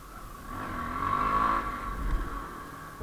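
A Honda XRE motorcycle engine revs and holds a steady high-pitched drone during wheelie practice, swelling in the middle and easing off, fairly close and continuous with no talk.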